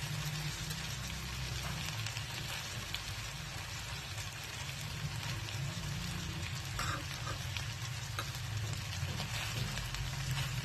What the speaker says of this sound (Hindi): अभी जो है चारों साइडों से हम अच्छी तरह इसको फ्राई करेंगे